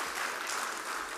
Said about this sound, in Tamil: நல்ல ஒரு கைத்தட்டல் கொடுக்கலாம் எல்லாருக்கும்